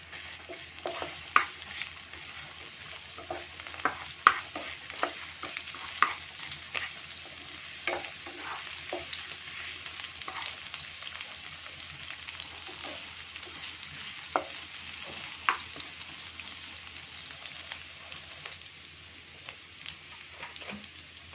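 Onions and garlic sauté in oil in a pan, giving a quiet, continuous frying sizzle with scattered crackles and spatter pops throughout, with no talking.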